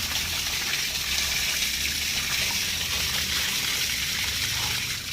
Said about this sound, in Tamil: அடைச்சிட்டோம்னாக்க கீழே தண்ணி வருது